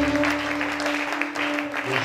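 A church congregation applauding during a worship service, a short burst of clapping with a sustained tonal hum running beneath it.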